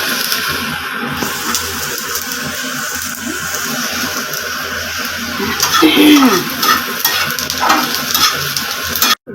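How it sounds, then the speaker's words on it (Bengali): Garlic and onion frying in a pan for chepa shutki bhorta, a steady sizzle with occasional stirring scrapes, while someone talks over the cooking throughout. "আপনারা এইভাবে এই যে এইভাবে ভাজবেন এই যে এরকম এই যে চাপা শুকের জন্য যে এরকম ভাজিটা করবেন রসুনটা পেঁয়াজটা"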